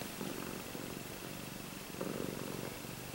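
An older cat purring softly and steadily, a close, low continuous rumble in a quiet indoor room.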